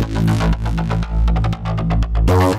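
Layered synth bass and lead from an Ableton project play together: a heavy, throbbing low bass under sharp, attacky lead stabs in a pulsing rhythm, loud and close with brief dips where sidechain-style pumping cuts in, and no talking.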